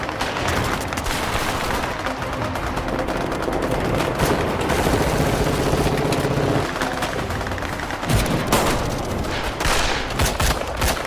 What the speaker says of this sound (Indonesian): Baku tembak pun terjadi sangat sengit.